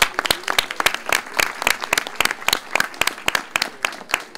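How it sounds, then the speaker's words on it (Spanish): Audience applause at a Peruvian award ceremony for a Guinness hand-washing record, sparse distinct claps from a small group, crisp and fairly close, with no talking over them. "Un aplauso para ellos, por favor."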